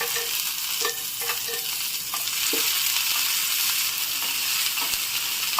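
Golden brown onions frying in a pan as tomatoes go in, a steady bright sizzle with intermittent stirring scrapes and clinks throughout, close and continuous without talk.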